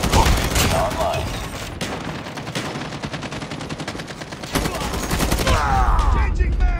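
Rapid gunfire from the mobile shooter game Call of Duty Mobile, with dense, loud automatic bursts crackling almost continuously and a few heavier shots under faint voice lines.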